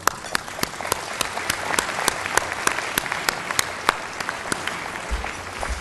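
At an Assets and Opportunity award presentation, a room of people applauds, a steady wash of clapping with several sharp individual claps standing out near the front.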